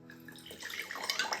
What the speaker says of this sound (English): so let's pour a tasting sample.